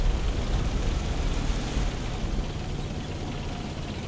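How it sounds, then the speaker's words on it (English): A plane drones overhead in War Thunder during a tank battle involving M4 Sherman tanks, heard as a steady, loud engine rumble over dense battlefield noise that fades slightly toward the end. "I hear a plane"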